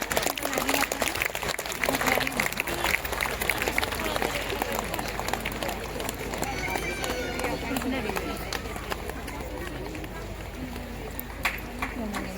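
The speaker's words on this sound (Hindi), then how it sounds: "तालियां बजती रहनी चाहिए।" Audience applause at a Catholic women's association annual general meeting ceremony in Ranchi, a dense, steady wash of clapping lasting throughout with an amplified voice speaking over it.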